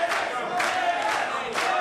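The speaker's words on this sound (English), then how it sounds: "The crowd once again trying to will DeMarco on." Wrestling crowd at an All Pro Wrestling event cheering on a tiring wrestler in the ring, a broad sustained roar with rhythmic swells of shouting roughly every half second, loud and close throughout.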